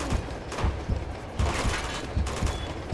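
Gunfire from a hand cannon in the video game Uncharted 2: Among Thieves, with several loud, sharp shots spaced irregularly over dense game noise and mechanical clatter.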